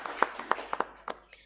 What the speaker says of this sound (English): A hand clap for Diego